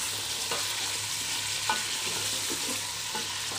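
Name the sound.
chicken frying with onions in a pan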